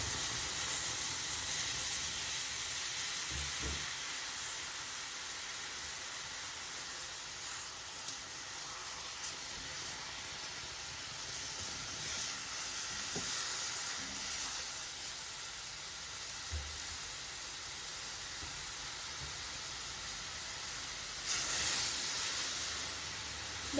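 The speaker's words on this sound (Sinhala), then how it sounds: "දැන් මේ විදිහට වතුර ටික නටාගෙන එනකොට" Water comes to a boil in a pot of chicken curry on the stove, giving a faint, steady hiss and simmer with a few soft bubbling pops scattered through it.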